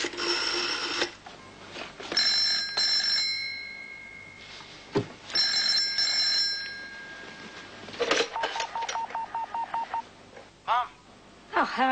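A telephone bell rings indoors in repeated short bursts separated by pauses, followed by quicker electronic-sounding trills near the end.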